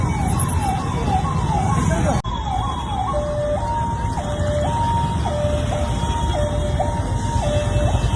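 An ambulance siren, coming the wrong way through traffic near the Chandrayangutta flyover, wails and then switches to a steady two-tone hi-lo cycle, loud over a dense roar of road traffic.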